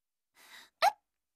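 A cartoon child gives a single sharp hiccup, preceded by a soft breathy inhale, close and clear against silence.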